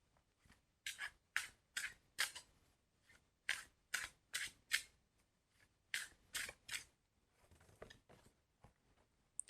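Tarot cards being shuffled in rapid bursts of crisp riffling and flicking, close and fairly quiet, with short pauses between shuffles and no talking.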